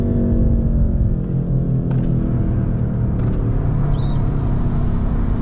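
A BMW M8 Competition fitted with a catless downpipe and Eventuri intakes gives a loud, steady low rumble, heard from inside while cruising, with no noticeable revving swells.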